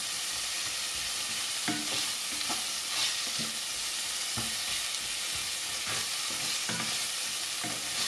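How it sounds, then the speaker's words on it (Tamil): Onions and ginger sautéing in a pan for Chettinad chicken kulambu, a steady close sizzle and fry with repeated scraping, stirring knocks throughout, and no talking. "லைட்டாக வெங்காயம் வதங்கி வாங்க, இஞ்சி கொண்டு பொரிச்ச போடுவோம்"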